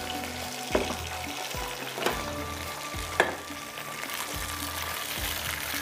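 Onion frying in oil in a pot for rice, a steady sizzle close up with a few sharp clanks of a spoon against the pot.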